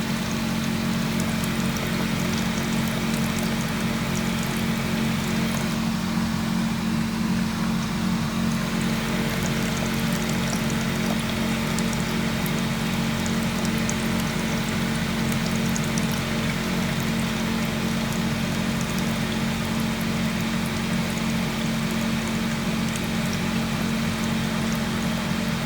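Water drains steadily out of an English Electric 2800 rpm spin dryer, a continuous trickling pour with a low machine hum underneath, unchanged and close for the whole stretch.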